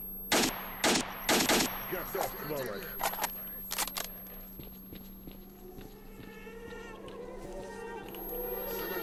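Gunfire in the video game S.T.A.L.K.E.R. Shadow of Chernobyl: a loud burst of several rapid shots near the start, then sparser single shots, with someone talking over the action.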